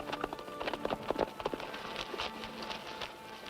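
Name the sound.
horse hooves clip-clopping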